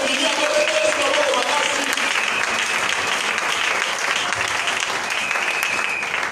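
A church congregation applauds together in a dense, steady wash of clapping that holds at full strength for about six seconds, close and loud with no break.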